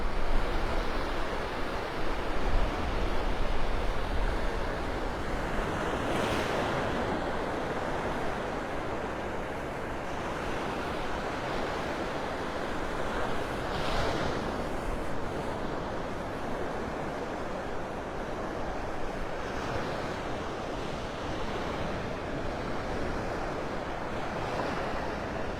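Rough, churned-up ocean surf rolls steadily onto a beach in North Naples, Florida, a continuous loud wash of breaking waves with occasional louder crashes and some wind rumble, no voices.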